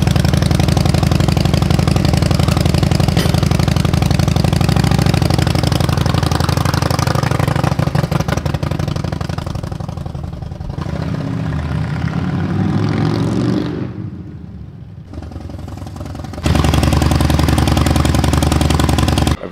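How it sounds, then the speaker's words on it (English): A Harley-Davidson motorcycle engine idles loud and close with a steady low rumble, dips and thins briefly near the end, then returns to full volume. "I'm going to be taking the Harley to the gym"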